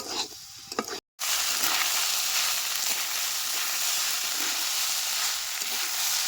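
Chicken and pasta fry in a pan over village-style cooking, giving a loud, steady sizzle with stirring scrapes after a brief cut near the start. No one speaks.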